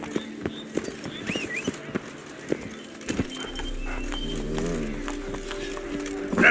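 Roach, Geralt's horse in The Witcher 3, beats out a run of sharp hoof clops, which give way to a steadier rumble of movement with faint voices here and there.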